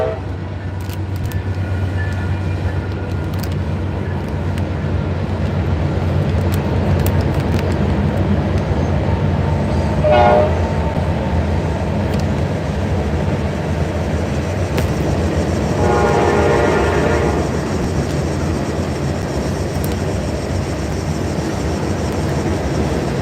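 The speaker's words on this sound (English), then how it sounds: "So here comes a train." A train passes beside a river, its wheels and cars rumbling loud and steady throughout, with two horn blasts sounding midway and near the end.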